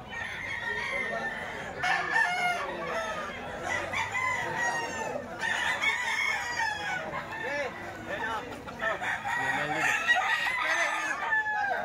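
Gamefowl roosters crow repeatedly in a farm yard, with clucking and other birds around and faint voices in the background.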